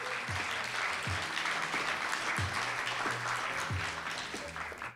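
An audience at a European slam poetry championship claps steadily after a score is announced, a dense, even wash of applause that holds throughout and tapers slightly at the end, with a low thumping beat underneath.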